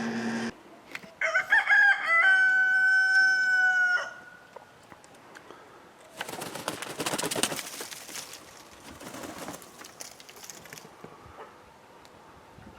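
A rooster from a flock of olive egger and green-egg-laying chickens gives one loud, strained crow lasting a few seconds, followed by softer rustling and scratching noises close by.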